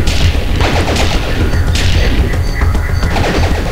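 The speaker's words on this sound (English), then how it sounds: "Rapid fire!" Dense, rapid gunfire and booming explosions from the Nintendo 64 shooter Jet Force Gemini, a continuous loud barrage of overlapping shots and crashes with no pauses.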